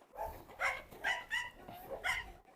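A Doberman working as a herding dog on a farm with goats and ducks in Turkey gives four or five sharp, mid-range barks in an uneven rhythm, fairly close and clear.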